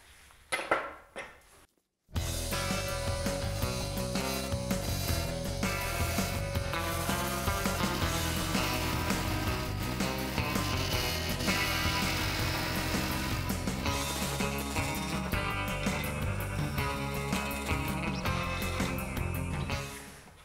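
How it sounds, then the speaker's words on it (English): Wood lathe spinning a blank while a big roughing gouge cuts it down toward a 2-inch diameter, a loud continuous rumbling scrape with chattering texture that starts abruptly and runs steadily throughout. "I'm going to use this big old beefy roughing gouge to do the work"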